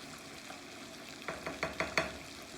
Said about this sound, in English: our corn is cooking up really well